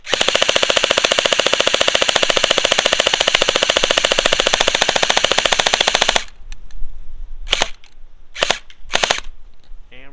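A Vasvarn MP5-K toy blaster fires sustained full-auto outdoors, a rapid, even stream of sharp pops lasting about six seconds, followed by a few separate louder shots with short gaps between them.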